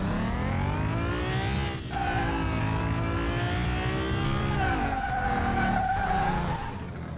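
A car brakes hard during a braking test in the video game Car Mechanic Simulator 2021, giving a long, loud tire skid and squeal with engine tone, steady and close, easing off at the end.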